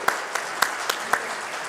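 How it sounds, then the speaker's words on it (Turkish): An audience in an assembly hall applauds, a sparse run of sharp, separate claps repeating every quarter second or so, close and fairly loud, with no talk over it. "Sizleri alkışlıyorum arkadaşlar."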